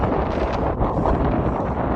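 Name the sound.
strong wind on a mountain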